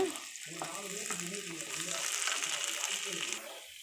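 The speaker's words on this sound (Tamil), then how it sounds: "தக்காளி போட்டாச்சு தக்காளி போட்டு நல்லா வதக்கிக்கோங்க" Chopped onion and tomato sauté in a hot pan, a steady close sizzle with soft stirring scrapes throughout, fading out near the end.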